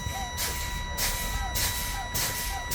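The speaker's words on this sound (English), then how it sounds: "I'm going to fan my brakes, and those valves should pop out at approximately 40 PSI" Air brakes on an automatic-transmission truck are fanned during an in-cab inspection, giving four evenly spaced loud hissing bursts of air about half a second apart over a steady tonal hum inside the cab.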